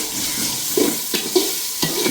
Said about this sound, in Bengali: তো কষতে থাকুক ভালো করে